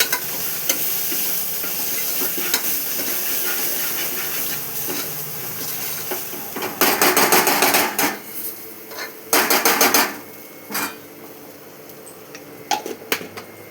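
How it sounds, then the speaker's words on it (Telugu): Masala with turmeric being stirred and fried in a pan, an even sizzle under repeated scraping strokes, then louder bursts of rapid clattering stirring in the second half, with no voices. "పచ్చివాసన పోయేదాకా కలబెట్టాలి"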